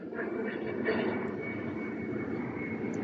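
A passenger airplane climbing away after takeoff, a steady broad jet roar with a faint high whine, sustained and moderately distant throughout with no talk.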